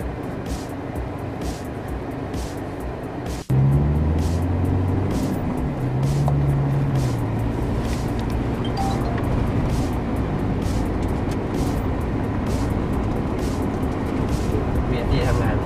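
A Toyota car drives in circles on a wet skid pad during a VSC stability test, with a steady engine drone and tire and road noise running throughout.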